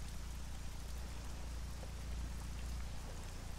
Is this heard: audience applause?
no